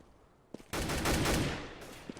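Counter-Strike gunfire in an ESEA match between SK Gaming and Astana Dragons, a shot wall-banged through cover: a quick single pop, then a dense rapid burst of automatic fire that tails off, fairly quiet overall.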